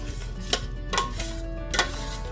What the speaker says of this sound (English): So keep stirring till all of your cheese is melted